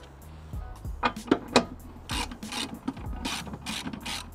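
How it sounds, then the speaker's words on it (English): Ratchet and 13mm socket loosening bolts from a cover plate on an MX5 engine: several quick ratcheting clicks and metallic ticks in short bursts, close by, with light handling noise and no talking. "I'll remove the two 13mm bolts that I replaced the shear bolts with first."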